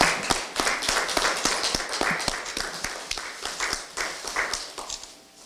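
Sparse, fairly quiet clapping from a small audience at a joint party leadership meeting, individual claps distinctly audible in an uneven rhythm that gradually fades.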